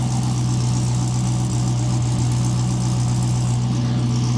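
A V8 engine in an LT-swapped Trans Am idles steadily through its exhaust, a deep, loud, even rumble with a slight raspy edge and no talking.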